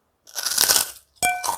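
Crispy kerupuk crackers crunch up close in two loud, brittle bites separated by a short pause, each one a dense burst of crackling.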